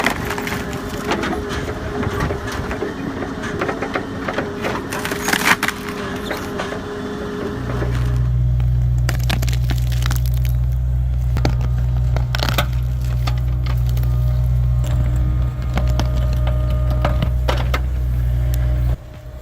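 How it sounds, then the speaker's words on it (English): A hydraulic stump puller at work in the woods: wood cracks and crunches, then a loud, steady low hydraulic drone takes over, broken by occasional splintering snaps. "The sound of the hydraulics and the wood splitting is like rhythm for a busy afternoon in the woods."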